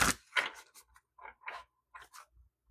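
Tarot cards being shuffled by hand, a series of quiet, brief papery riffling bursts in an irregular rhythm, close to the microphone, with no talk.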